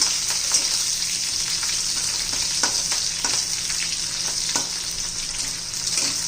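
Green chilies fry in hot oil with crackling cumin and mustard seeds for a lemon-chili side dish, a loud, steady close sizzle dotted with small pops and spatters throughout.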